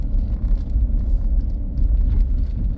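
Car interior on a drive with a dog riding along, a steady low engine and road rumble continuing evenly throughout with no voices.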